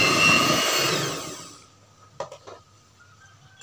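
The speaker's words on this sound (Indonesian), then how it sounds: "Kita mixer kembali ya bunda." Electric mixer beating cake batter of flour, cornstarch and milk powder for a baked cheese sponge cake, loud and steady whirring for about a second and a half before it cuts off, leaving a few faint clicks.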